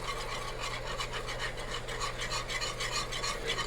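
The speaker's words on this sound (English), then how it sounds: "add our stock back into that mixture and continue whisking" Whisk rapidly scraping through stock and gravy mixture in a skillet for brown gravy with pork chops, a fast steady rasping rhythm, loud and close, with a low hum beneath and no speech.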